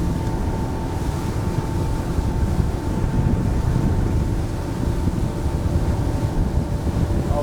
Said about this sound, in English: Now let's make the full turn and ride into the wind here.